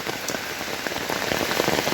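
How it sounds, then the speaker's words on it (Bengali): Steady rain pours over a vast cloudy hill landscape in Meghalaya, a dense, even hiss of drops striking surfaces with scattered louder patters, close and continuous with no voices. "সুবিশাল মেঘালয়ে সুন্দর বৃষ্টির ঐশ্বরিক পরশ"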